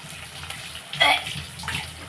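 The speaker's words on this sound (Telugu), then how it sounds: "కొలతగా వాటర్ వేసుకున్నాం" A brief burst of measured water pouring into a pot for broken-rice vermicelli, loud for under a second, then softer trickling and faint background noise.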